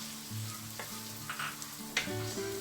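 Shrimp frying with cooked ground pork in a pan for pancit palabok, a quiet steady sizzle with a few stirring scrapes, close and without talk.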